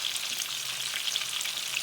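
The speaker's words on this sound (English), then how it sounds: "it is not that much safe to be close to the frying fish" Fish frying in hot oil for an Odisha-style fish curry, a close, continuous bright sizzle with small crackling pops throughout.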